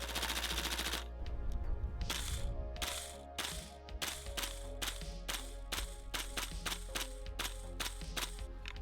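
A Tokyo Marui M4 gas blowback airsoft rifle fires a steady run of about a dozen sharp, close shots, each crack trailed by a short springy twang from the buffer spring, with evenly spaced rhythm after a brief opening burst.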